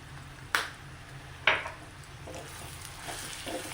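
Chicken masala, coriander and pepper powder frying in a pan, a soft steady sizzle broken by two sharp clinks of a utensil against the pan, no talking.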